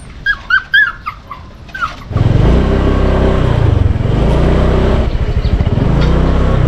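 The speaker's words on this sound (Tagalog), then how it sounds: "Yung aso pala guys, araw-araw po napunta dito si Bayaw, pinapakain niya" A dog gives several short whimpering barks up close, then a loud engine revs and drones over the rest, swelling and easing in waves.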